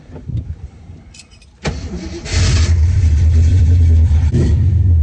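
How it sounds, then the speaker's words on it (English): An AMC 304 V8 engine cranks and fires up close by, then settles into a deep, loud, rumbling idle with no voices. "For an AMC 304, it sounds so good."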